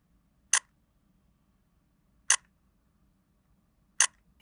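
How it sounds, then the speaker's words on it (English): Three crisp electronic shutter sounds from a Nikon Z9 mirrorless camera click out in a quiet room, evenly spaced at roughly one-and-three-quarter-second intervals, each short and sharp. "the fake shutter sound is something I can definitely get used to"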